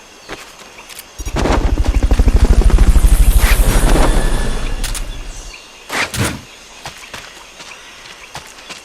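A Fulton recovery helicopter in Metal Gear Solid: Peace Walker, its rotor swelling into a loud rhythmic chop that fades out, followed by a few sharp mechanical clunks and thumps.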